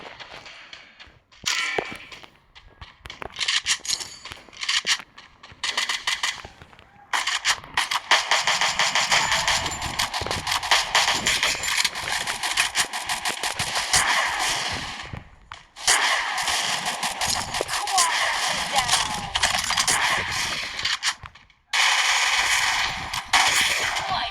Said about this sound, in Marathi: पुढे फायरिंग चालू आहे